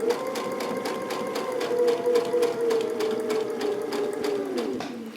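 Sewing machine fitted with a quilt binding foot sewing binding onto a placemat, a continuous fast rhythmic stitching hum up close that slows and stops at the end.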